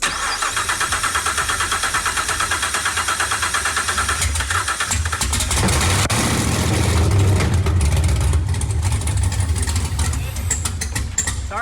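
An LT4-swapped 1967 Chevrolet Camaro engine cranks and fires, then settles into a loud, steady rumbling idle close by, with some voices talking over it.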